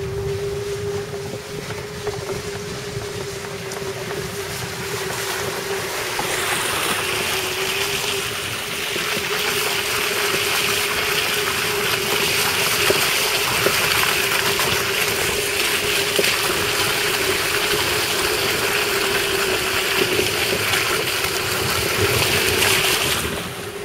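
A small motor hums steadily while a water wheel boat, powered by a water ram pump, churns and splashes water continuously in a tank in Elgin, Texas, with a breezy rush building partway through.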